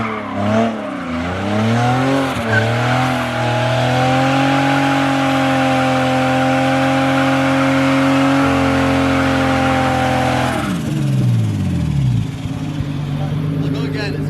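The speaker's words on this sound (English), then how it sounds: "Alright, time for a burnout" Turbocharged BMW E36 engine revving hard for a burnout in first gear, a loud sustained rising whine with harmonics held for about ten seconds before dropping off, with a roughness from the misfiring condition near the end.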